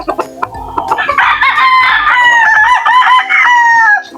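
Native chickens and a rooster close by on a farm, clucking and calling, then a loud drawn-out crow that carries through the final seconds, with no talking.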